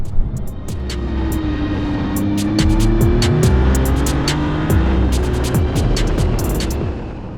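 A Maserati MC20 GT2 Stradale engine revs up close and loud, pitch climbing through the range and dropping at gear shifts in a steady rhythm of rising pulls.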